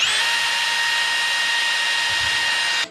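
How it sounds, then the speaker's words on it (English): A power drill bores a hole for a bolt during a garden project, a steady high whine running loud and close for nearly three seconds before cutting off. "We're gonna drill this hole, and then we're gonna put a bolt in there"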